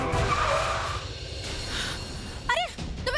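A car brakes hard with tyres squealing as it skids, ending in short warbling screeches and a quick stop. The sound is moderately loud with a background hum and no talking.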